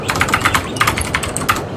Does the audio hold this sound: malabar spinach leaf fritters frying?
no